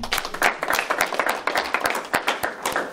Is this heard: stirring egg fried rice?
no